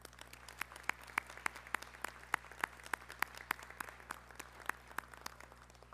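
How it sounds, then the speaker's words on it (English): Sparse clapping from a graduation ceremony audience: a handful of distinct, evenly spaced claps over a faint room hum, fairly quiet and distant, with no voices. "If we could give them a round of applause, please."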